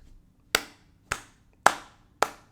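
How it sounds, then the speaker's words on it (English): Four sharp, isolated hand claps spaced about half a second apart, each crisp and close with a quick decay into near silence, no voices present. "I gotta clap for y'all."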